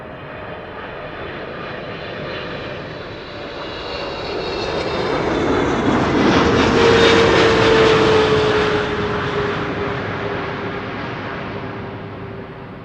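A Boeing 777-300 jet airliner, about 17 years old, arrives at Amsterdam Schiphol: a broad engine roar swells as it nears overhead, peaks midway with a steady whine, then slowly recedes, with no talk.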